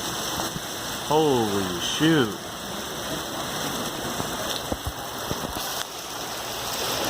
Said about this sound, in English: Holy dude, it's hailing out there.